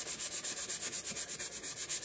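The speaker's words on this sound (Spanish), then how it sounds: "Lija muy fácilmente, no tenéis que poner cera entre capa y capa" Sandpaper rubs back and forth over chalk-painted wood being distressed, a steady rhythmic scrubbing of about a dozen even strokes, close and alone with no voices.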